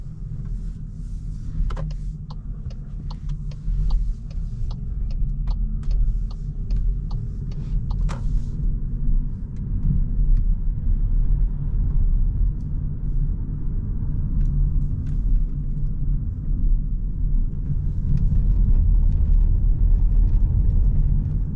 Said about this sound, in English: now we will go outside of this rather huge garage and go on a nice relaxed night drive